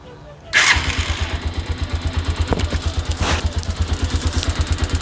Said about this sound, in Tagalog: Buksan muna natin yung susian, tapos i-start natin.